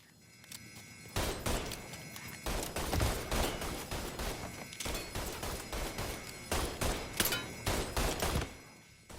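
Gunfire in the video game Mafia III, repeated bursts and single shots that crack loudly and densely one after another, with brief quieter gaps between volleys.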